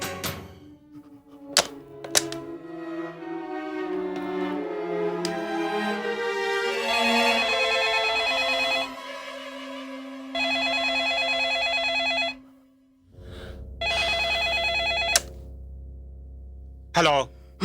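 A telephone rings at midnight in a Hindi horror serial, its electronic trills repeating in loud bursts separated by short gaps, with dramatic music and thuds around it.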